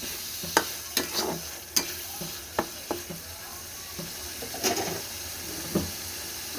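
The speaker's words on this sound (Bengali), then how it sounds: "এবারে এটাকে আমি একটু নাড়াচাড়া করে নেব" Prawns fry with ridge gourd in a pan, a gentle sizzle under repeated sharp scrapes and knocks of a spatula as the mix is stirred, close and uneven in rhythm.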